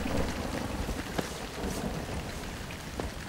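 Heavy rain from a storm over Houston hisses steadily and densely, with faint rumbles of thunder beneath and occasional sharper drops or cracks scattered through the wash of noise.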